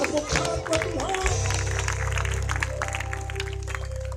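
A church crowd at a healing crusade applauds together, steady massed clapping under a sustained organ or keyboard tone and some voices.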